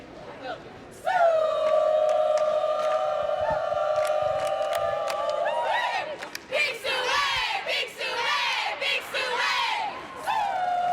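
A crowd at an indoor track and field championship bellows a long, sustained unison call, then breaks into rising whoops and cheers that echo around the arena, loud and continuous.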